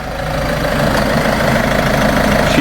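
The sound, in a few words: Land Rover Freelander 2 engine starting and idling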